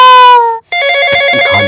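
A loud, close telephone ring cuts off after about half a second, and a second ringtone of a different tone starts right after and keeps sounding, with faint clicks underneath.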